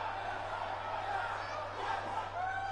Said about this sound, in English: Crowd's on their feet.